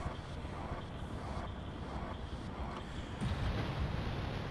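Water flowing in The Legend of Zelda: Majora's Mask after a lever is pulled, a soft continuous rushing wash at low volume with no voices.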